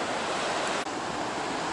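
Sea waves washing against a rocky coast, a continuous roaring surf wash mixed with wind noise on the microphone, with a brief dip partway through.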